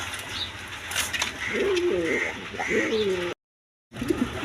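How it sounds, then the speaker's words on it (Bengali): A pair of caged Mondain pigeons coos in repeated throaty, rolling calls close by, broken by a brief silent gap before the noise resumes. "এখানে এক পেয়ার কবুতর আছে দেখেন"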